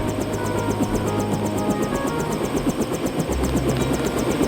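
Helicopter in the video game Deus Ex, a steady rotor chop and engine whine droning loudly and continuously throughout, with no voices over it.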